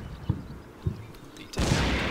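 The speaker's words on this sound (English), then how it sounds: "Some explosion goes off over here." Explosions in the WWII tactical game Combat Mission Battle for Normandy: two dull low thumps, then a louder blast that swells into a sustained roar with a boom inside it.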